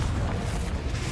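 A Confringo fire-blast spell explodes in the Hogwarts Legacy video game with a loud, sustained rumbling roar that fills the whole moment. No voice is present.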